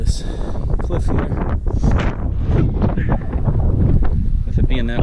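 Strong gusting wind buffets the microphone atop a cliff on the Huntington Ravine Trail on Mount Washington, New Hampshire, a loud, continuous roar with surging gusts.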